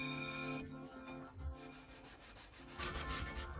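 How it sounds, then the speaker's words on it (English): Blade steel at a traditional blacksmith workshop being polished for a mist finish using natural whetstone powder crushed with an eraser, producing a continuous close rubbing and scrubbing over a tonal background hum. "Using natural whetstone powder crushed with an eraser, it is polished"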